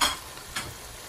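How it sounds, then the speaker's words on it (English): Saltfish dropped into a hot pot of boiling breadfruit fixings gives a quick sharp sizzle at the start, followed by a softer second hiss and a low bubbling simmer. "So now I'm going to drop my saltfish. Right in there."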